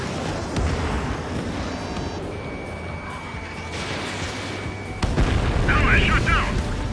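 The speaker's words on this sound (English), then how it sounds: "Strider 1, missile away." Missile launch and detonation in the Ace Combat flight game, a dense roaring rumble with a louder blast near the end, mixed with game radio chatter and a steady warning tone.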